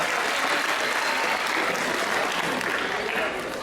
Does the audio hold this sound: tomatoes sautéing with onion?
no